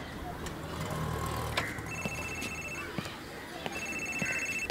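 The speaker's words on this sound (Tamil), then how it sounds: "என்ன அதுக்குள்ள ஃபோன் அடிக்கிறா?" A telephone rings in a Tamil comedy film scene, sounding in two repeated trilling bursts over a noisy room background.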